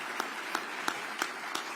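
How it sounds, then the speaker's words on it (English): Applause from an audience for Governor Kathy Hochul at a housing policy announcement in New York State, a steady faint wash of clapping with a few sharper claps standing out at regular intervals. "Let's give her another round of applause for joining us."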